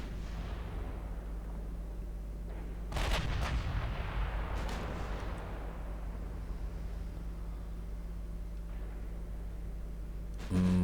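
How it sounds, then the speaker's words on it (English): Battleship broadsides in the naval strategy game Ultimate Admiral Dreadnoughts boom out in a cluster of heavy, rumbling gunfire blasts over a constant low engine drone, followed by a long quieter stretch and another boom at the very end. "My battleships are firing HE."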